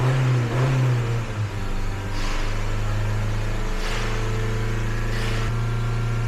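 A 2018 Honda Civic engine misfiring, with cylinder misfire and running rich, revs and idles with a steady low drone, rising in a few surges and wavering unevenly, loud and close.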